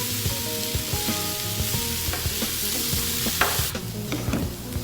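Pre-cooked bacon bits fry and get stirred in a pan, with a steady close sizzle under repeated scraping and clinking taps of a utensil, while low music-like tones run in the background.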